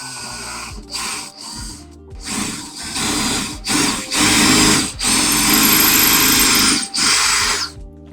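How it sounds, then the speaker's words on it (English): A power drill whines loudly in several bursts, starting and stopping, with a long continuous run near the end, drilling a pilot hole into a wall stud to mount a Genie B6172H garage door opener. "We're gonna pre-drill that hole."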